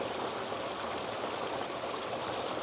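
Steady rushing water pouring from a funnel into a pond, creating a current, an even broadband flow that stays constant throughout with no voices.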